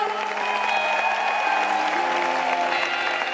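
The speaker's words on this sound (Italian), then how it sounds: "ha suonato per voi, un applauso!" A concert crowd at a singer's show in Rome applauds a musician with dense, steady clapping that stays loud and even from start to finish.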